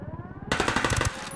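Automatic rifle fire in the video game Ghost Recon Wildlands, a short burst of rapid evenly spaced shots that starts abruptly after quiet game ambience and stops about half a second later.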